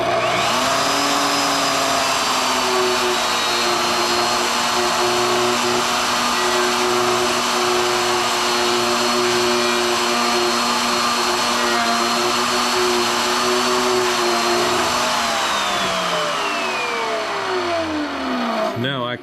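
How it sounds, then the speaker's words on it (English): A CNC router spins at high speed while routing a lip around a wooden piece for an American flag and coin rack, a loud sustained whine with steady tones that winds down near the end. "so we're just going to router a lip around it here."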